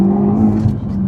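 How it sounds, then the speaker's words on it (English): Front-wheel-drive Renault Megane R26.R or Trophy R accelerating hard on a road in third and fourth gear, its engine giving a steady, loud, close drone as the wheels still try to spin. "It's still trying to spin its wheels up in 3rd and 4th gear there"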